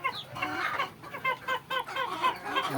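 Backyard chickens suffering in hot weather cluck in short repeated bursts close by, a busy overlapping series of calls without speech.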